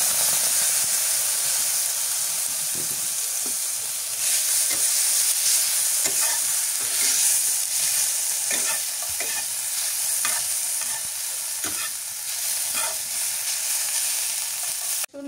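Vegetables fry steadily in a hot pan in a home kitchen, a continuous loud sizzle and hiss with occasional stirring scrapes, no voices over it.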